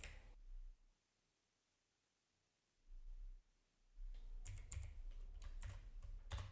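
Someone types on a computer keyboard while building a Power Apps custom theme. Short runs of close, crisp key clicks are separated by pauses, with no voices.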